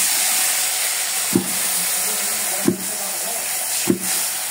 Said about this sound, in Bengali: একটু জল দিই, না হলে মশলাটা পুড়ে যাবে।